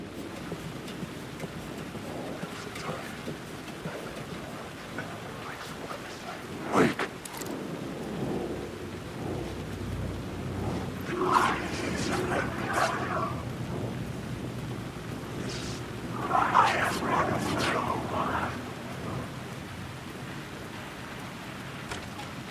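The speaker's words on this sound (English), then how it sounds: "The rain." Steady rain pours in Alan Wake II while thunder rumbles and cracks several times over the downpour, with a heavier roll near the middle and another toward the end.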